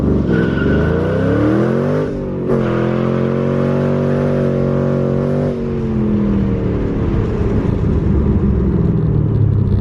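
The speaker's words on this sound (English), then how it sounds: "I'm not entirely sure that time, but spinning for days, as you guys saw" A cammed Ford Mustang GT launching hard from a standstill to 60 mph, its loud engine roaring up through rising revs with two brief gear-change dips, tire wheelspin noise layered over the close, aggressive exhaust.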